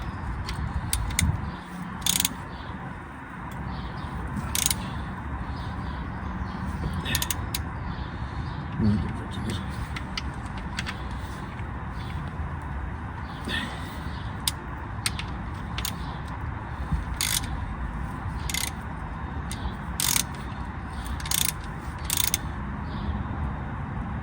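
A hand ratchet tightening the gearbox mount on a Volkswagen Beetle 1.9 TDI PD100 during a steering rack replacement, with sharp clicking bursts at irregular intervals over a garage background, fairly close, while someone talks intermittently.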